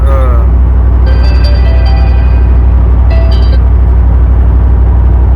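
A deep, steady V8 engine rumble idles throughout from a single cab Chevrolet Silverado pickup fitted with Speed Engineering headers, with a few brief high tones rising above it partway through.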